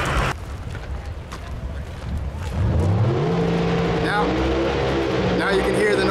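Drag racing cars and wheel standers at Mission Raceway, with a loud engine rising in pitch and roaring on steadily after a quieter, noisy opening.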